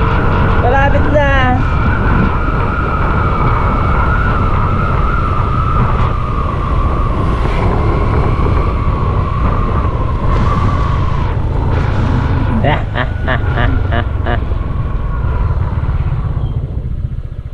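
A motorized tricycle engine drones steadily close by and draws nearer, a continuous rough rumble with people talking over it throughout.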